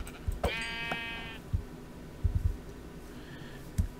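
A sheep in the video game Minecraft bleats once in a clear harmonic wavering cry near the start, with a fainter second bleat later, among soft thumps and footstep-like game sounds.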